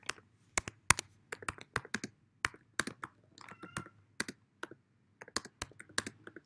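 Someone typing a question on a computer keyboard, a quick irregular run of close, crisp key clicks with short pauses between bursts, no speech.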